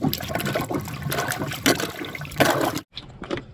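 A plunger pushes down hard in a clogged, backed-up toilet, making continuous close gurgling and sloshing water that breaks off abruptly and then returns in a short splash.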